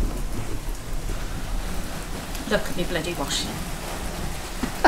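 A summer thunderstorm winds down with steady rain pattering on surfaces and a parked Willys jeep, a faint low rumble beneath, while someone speaks briefly over the downpour.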